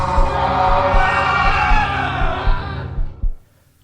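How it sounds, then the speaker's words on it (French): Loud, sustained chorus of anguished screams and cries for a horror story, rising in waves with heavy low rumble beneath, then cutting off abruptly into near silence. "Il entendit ses hurlements accompagnés de visions d'horreur."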